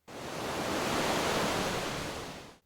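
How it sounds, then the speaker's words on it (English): Ocean waves wash onto a shoreline in one broad surge of rushing foam that swells, holds and then fades out, steady and close. "You're walking barefoot along the edge of the ocean."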